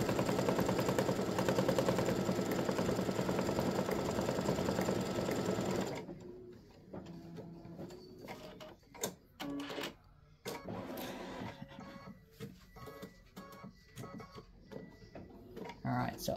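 An embroidery machine stitching a Mrs. Claus tic tac toe game piece, at first a steady fast mechanical whir and then a run of uneven clattering bursts with pauses between them, heard up close.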